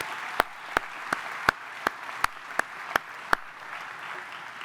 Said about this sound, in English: they should now get a round of applause from all of us